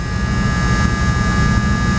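A Chevy 496 big-block stroker V8 on a dyno roars through its exhaust, loud and steady with a deep rumbling low end and constant drone, close and unbroken throughout.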